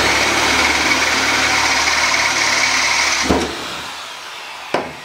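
A power drill bores through the top hole of a metal cargo carrier, whirring steadily for about three seconds before it stops, followed by a couple of sharp knocks.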